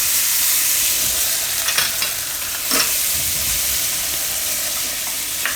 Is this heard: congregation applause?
no